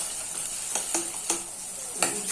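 Ghugni ingredients with spices are stirred and sautéed in a hot pan, a continuous close sizzle broken by several distinct scraping strokes of the spoon against the pan.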